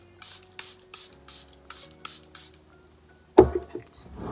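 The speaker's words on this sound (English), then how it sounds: "setting spray." Charlotte Tilbury setting spray misted onto a made-up face: seven short, evenly spaced hissing spritzes in a row, close and clear, followed by a brief louder rustle or movement.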